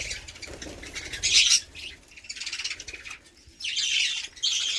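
A male bird feeds a female bird at close range, with bursts of harsh, scratchy squawking that come in uneven clusters and short pauses between them.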